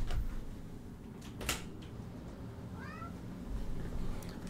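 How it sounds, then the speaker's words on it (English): A house cat meows at a closed door, giving one short rising call midway through, faint beneath a low steady background hum, with a couple of soft knocks and thumps around it. "my cat wants the door open, one of my cats"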